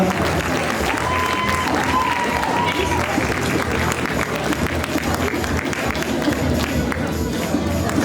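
At a cosplay contest, the audience applauds the winner dressed as Cruella with steady, loud clapping mixed with general crowd noise, while a presenter speaks over it on an amplified system.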